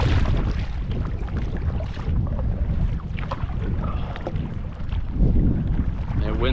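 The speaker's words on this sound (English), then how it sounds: "wind is nasty again today. Nasty." Canoe paddled through strong wind, with constant heavy wind roar over the microphone and water sloshing against the hull from nearby paddle strokes, continuous and loud throughout.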